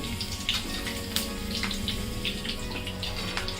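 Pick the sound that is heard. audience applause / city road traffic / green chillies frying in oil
green chillies frying in oil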